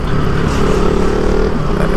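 KTM Duke 200 single-cylinder exhaust while riding through a city at night, a loud, busy, continuous engine note with rushing wind and road noise, held steady at close range.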